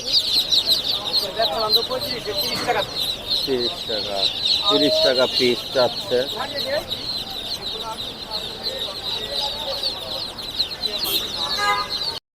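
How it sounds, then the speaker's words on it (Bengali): Chickens cluck and cackle repeatedly at the Tongi bird market in Bangladesh, close and busy, mixed with vendors and buyers talking over them. "তো এখানে মুরগিও আছে"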